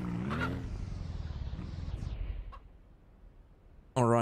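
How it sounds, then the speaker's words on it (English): A chicken on a ranch clucks and squawks nearby over a steady rumbling background, the calls fading into quieter noise before a sudden loud burst at the end. "Dude, I bought a chicken!"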